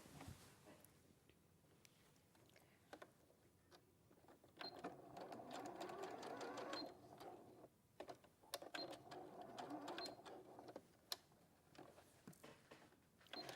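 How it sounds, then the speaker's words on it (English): Sewing machine stitching fabric binding along a neckline, running in several sustained bursts with short pauses between, moderately loud and close, with faint voice in the background. "And then I'm gonna sew just only from here"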